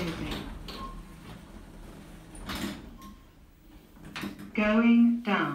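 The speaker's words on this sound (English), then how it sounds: "Doors closing." Automatic lift doors slide shut in a town-centre lift: a soft mechanical rumble and rattle with a brief clunk, then a loud chime-like tone near the end, with a recorded announcement voice heard.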